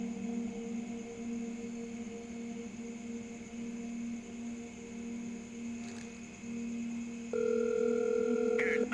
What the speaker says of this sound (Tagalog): Ang ingay ng phone ko.